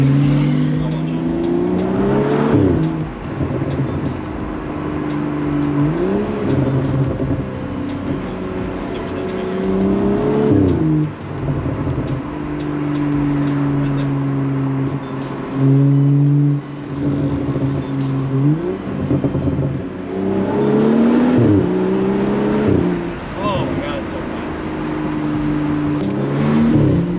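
BMW 435i M-Sport with a stock Akrapovic exhaust, loud and close, revving and surging repeatedly with rising and falling engine notes and occasional pops between pulls.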